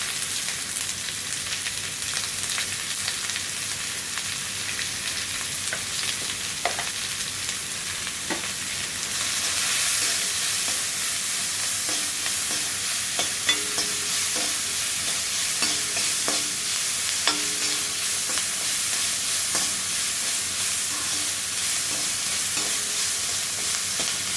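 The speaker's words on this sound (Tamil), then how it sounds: "வெங்காயத்தை வதக்கிக்கலாம் வெங்காயம் நல்லா வதங்கினதுக்கப்புறம் அந்த கடை போட்டுக்கலாம்" Onions with salt and turmeric sauté in a pan with a continuous close sizzle, broken by scattered clicks and scrapes of stirring that grow busier partway through.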